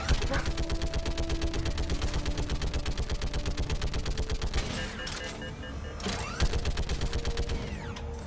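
Continuous rapid automatic gunfire from a Mass Effect 3 combat scene, dense bursts running almost the whole time at steady loudness, with a brief lull near the end before firing resumes; a voice is heard under the shooting.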